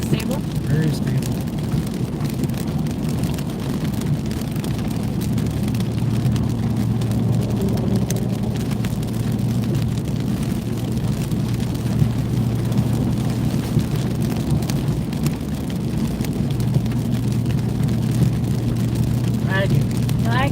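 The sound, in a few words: rain while driving a new truck on the highway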